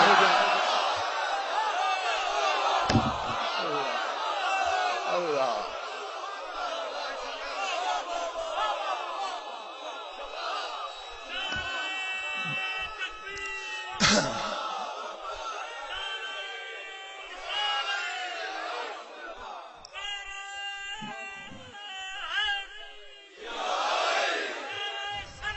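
A crowd at a majlis chants religious slogans, starting as dense, loud massed voices before thinning into separate bursts of shouting, with a single voice heard between them.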